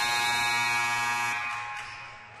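A loud, continuous electronic buzzer blares steadily throughout, fading slightly toward the end, like a game-clock horn at a women's college basketball game.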